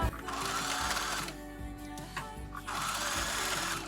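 Sewing machine stitching scrap fabric for an autumn vest, a steady mechanical whir that runs, pauses briefly with light handling clicks, then resumes at close range.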